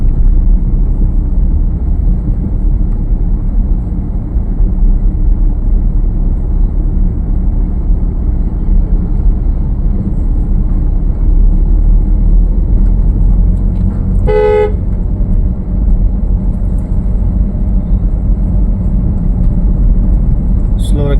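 A car creeps forward slowly during a driving lesson, its engine hum steady and close throughout, with one brief horn toot partway through.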